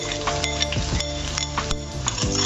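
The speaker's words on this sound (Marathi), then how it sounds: "बारीक चिरलेला कांदा हे चांगलं ह्यामध्ये परतून घ्यायचे आहे" Capsicum and finely chopped onion sautéing in a pan, with a steady close sizzle under repeated clinks and scrapes of a spatula being stirred through the vegetables.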